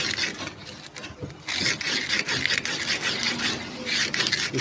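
Sandpaper rubs across the commutator of a small electric motor during rewinding work, a faint, steady rasping scrape in repeated strokes.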